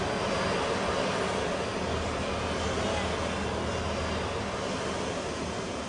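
A transport plane lands at an airfield during a military medical evacuation, its engines giving a loud, steady, broadband roar that holds without a break and fills the whole moment.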